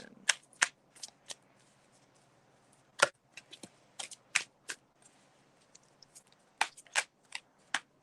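A deck of playing cards is shuffled by hand, giving a run of sharp, crisp riffles and snaps at irregular intervals, close and fairly quiet.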